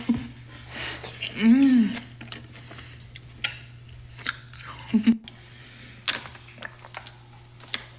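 Crunchy bites and chewing of a Panda Express chicken egg roll and walnut shrimp, close and intermittent, with a voice talking briefly and sharp crackly bites scattered through.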